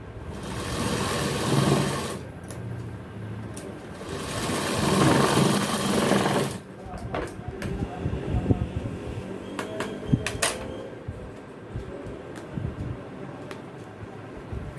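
A tailor's sewing machine stitches a pair of gents' pants in a shop, loud sustained motor bursts of a few seconds each, followed by quieter handling clicks and fabric rustle.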